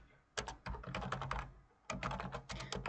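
Computer keyboard keys, including the spacebar, are pressed during CAD drawing work: two quick runs of crisp, fairly quiet clicks with a short pause between them.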